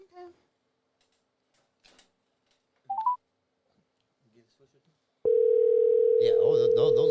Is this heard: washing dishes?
no